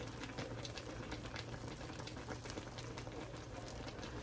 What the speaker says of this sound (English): So it's kind of boiling over.